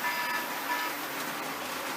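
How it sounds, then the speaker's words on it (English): A timer sounds two short, faint electronic beeps signalling that time is up, heard over a low, steady background hiss. "that's my timer telling me time's up."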